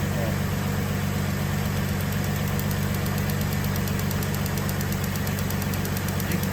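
Steady mid-pitched stock Cadillac CTS engine running close by, a constant throaty hum with faint rhythmic knocking and no clear rise in revs.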